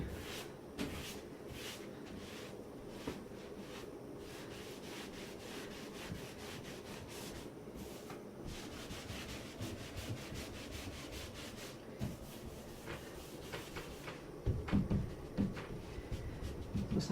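Faux steel paint finish being rubbed onto wall panels, with repeated scratchy rubbing strokes against the surface, soft and close with occasional knocks and handling bumps, no voices.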